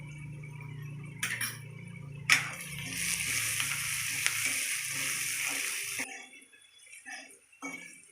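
Mandakki (puffed rice) frying and being stirred in a pan with turmeric and salt, a steady hiss of sizzling with scraping stir strokes and a few sharp clinks, then quieter scattered taps near the end.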